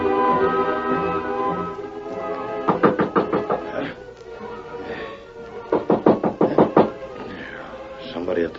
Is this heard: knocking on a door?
yes